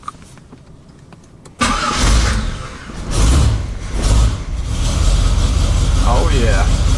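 A Chevrolet Corvette C3 engine cranks and catches after a quiet stretch, then settles into a loud, steady rumbling idle with a couple of rev swells, with a voice talking over it.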